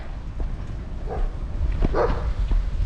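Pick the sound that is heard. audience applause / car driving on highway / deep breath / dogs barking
dogs barking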